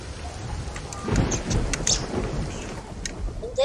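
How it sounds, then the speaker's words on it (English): Steady rain hiss in a flood-survival video game, with a rumble of thunder-like noise and a few soft clicks, continuous and moderately loud throughout. "Still raining, though."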